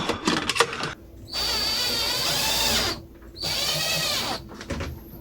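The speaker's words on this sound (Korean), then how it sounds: "요 브라켓을 대주고 나사 피스를 박았습니다" A power drill drives screws into a bracket while a window-type air conditioner is installed in a low 86 cm window. Two sustained close whirring runs with falling pitch are separated by brief pauses, with a few clicks at the start.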